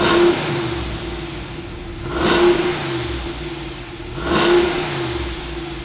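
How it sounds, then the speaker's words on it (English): A 2019 Ram 2500 Power Wagon's Hemi V8 idles with a steady hum and is revved twice in two swelling blips, heard up close with no talking. "let's fire up this Hemi and see what it sounds like."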